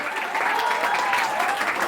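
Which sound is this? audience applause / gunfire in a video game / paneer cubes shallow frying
audience applause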